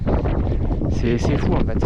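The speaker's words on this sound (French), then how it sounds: "Vous voyez le vent qu'il y a." Strong wind buffets the microphone on an exposed Massif Central trail in late June, a continuous low rumbling roar under a man's brief spoken remark.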